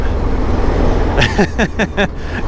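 Motorcycle engine held at wide open throttle while a quick shifter snaps through rapid upshifts; a run of short rising revving bursts in quick succession over steady road and wind noise.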